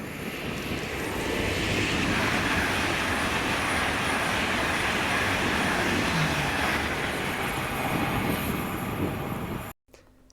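An LNER class 801 unit, 801222, passes at speed on a service from Edinburgh Waverley, a loud, steady rushing roar of wheels and motors lasting several seconds before cutting off abruptly.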